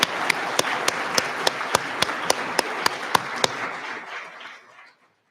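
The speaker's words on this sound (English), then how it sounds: "So we can give them a round of applause." Audience applause for graduating cadets of Class 353 at a commencement ceremony, a dense sustained clapping with sharp regular beats that tapers off and fades to silence near the end.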